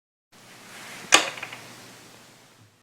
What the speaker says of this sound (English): The following sound is made as the Reconyx transitions from daylight to nighttime mode.